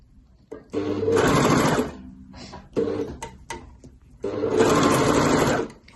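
An overlocker sews a seam on a tee, whirring in two long, loud runs with short stop-start bursts between them, close up and with no talking.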